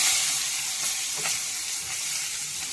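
Onions go into hot oil in a pan and sizzle steadily, a close, bright hissing fry that stays even throughout.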